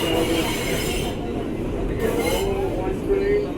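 Express run of an R62A train on the New York subway IRT Seventh Avenue line, a steady loud rumble of wheels and car noise with faint squeal, under an automated announcement voice.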